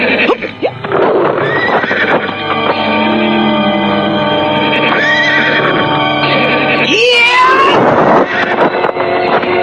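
A horse neighs and whinnies loudly, a sound effect in an Indonesian radio drama, with a long rising-falling whinny near the end over a dense background of music or noise.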